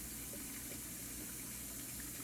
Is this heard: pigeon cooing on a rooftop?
no